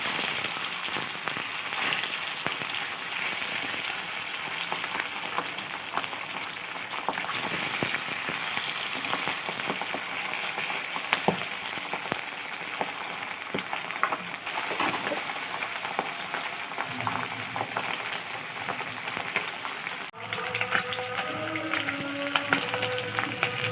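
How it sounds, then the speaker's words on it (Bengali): Pabda fish sizzling and spitting in hot mustard oil in a kadai, a dense, continuous crackling fry that runs steadily throughout with a few sharper pops near the end. "এবার আমি এখানে সরষের তেল দিয়ে দেবো। মাছগুলো একে একে ভেজে নেব।"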